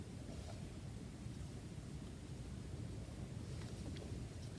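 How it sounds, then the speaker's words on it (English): Strong wind buffets the microphone outdoors, a steady loud roar with low rumbling gusts that never lets up. "It's very windy here today"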